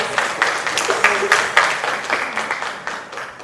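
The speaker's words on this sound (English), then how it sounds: "Give them a big round of applause" Pageant audience applauding during Miss Phenix City 2022, a steady wash of clapping with crowd voices mixed in, moderately loud and continuous for a few seconds.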